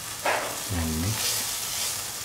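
Scrambled eggs with turmeric being stirred in a frying pan, a soft steady sizzle with a brief scraping stir near the start, quiet and close.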